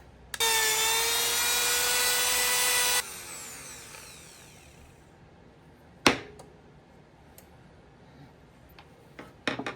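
A Bauer electric polisher running with a loud high-pitched whine for a few seconds, then spinning down and fading, followed by a few sharp knocks and taps.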